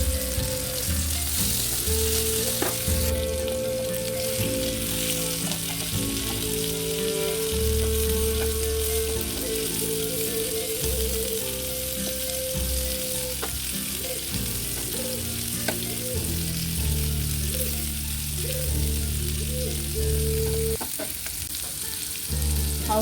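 Chicken pieces sizzle steadily in a hot pan for a home-style Kerala chicken fry, a continuous close crackle with occasional stirring clinks and no talk.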